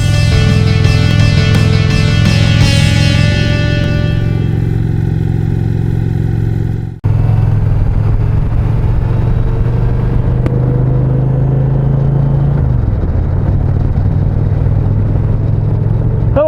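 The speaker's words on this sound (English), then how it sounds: "I am on my 2021 Indian Challenger." A 2021 Indian Challenger motorcycle being ridden, its engine droning loud and steady close to the microphone with a deep hum, briefly cutting out for a moment midway before the ride continues.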